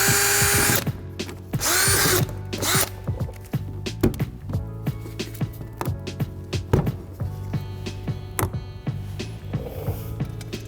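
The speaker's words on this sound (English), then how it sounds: "you can use a drill bit and just drill the center out" A power drill whines in short bursts, drilling out the centers of rivets on a 2011-2013 Dodge Durango, starting loud and steady for a few seconds, then several briefer pulses with clicks and clatter between them, close up.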